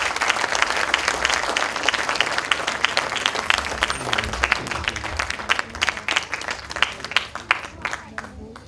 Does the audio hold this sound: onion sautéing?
no